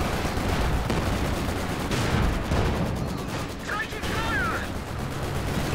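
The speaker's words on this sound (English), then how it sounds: "big shot from the infantry support guns" Infantry support guns fire in a late-game Company of Heroes 2 match, their heavy reports merging with continuous battlefield gunfire and rumble, loud and unbroken throughout.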